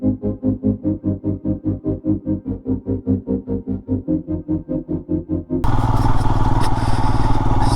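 A motorcycle engine thumps steadily at close range on an unpaved mountain road in Spiti Valley, its rhythmic pulses giving way near the end to a louder, rougher roar with wind noise.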